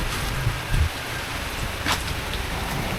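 Steady rain falls outdoors in a flood-prone neighbourhood, a constant broadband hiss with a few heavier thumps, with no clear talk over it.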